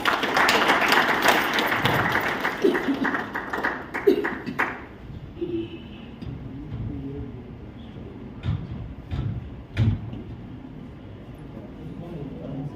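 An audience at a public talk claps to welcome a speaker, a dense burst of applause for about five seconds that fades into scattered claps and room noise, with a voice speaking over it.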